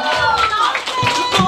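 An audience at a locking dance battle final in Seoul claps in quick, loud bursts while an announcer talks over it.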